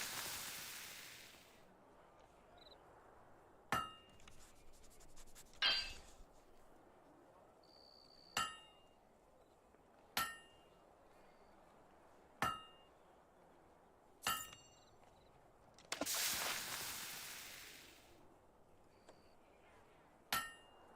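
Hammer blows ring on a blade at a forge in the game Fable II, sharp metallic clangs struck singly about every two seconds, each with a bright ringing tail, with quiet gaps between and a couple of longer hissing bursts.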